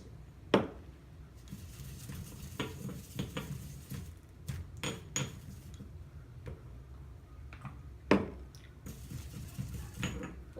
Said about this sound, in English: You want to go ahead and pound that until it becomes very fine.